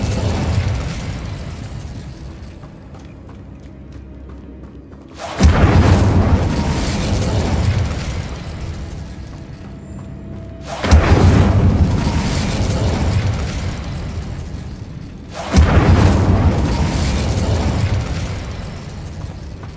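Incendio fire spell explosions in the game Hogwarts Legacy: three loud, sudden fiery blasts, roughly five seconds apart, each bursting out and then roaring and fading slowly over a quieter ambient background.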